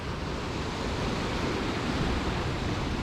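Sea water churns and surges through holes beneath rocks on the Scottish coast, a dense, continuous roar of broadband rushing noise that stays loud and steady throughout with no voices.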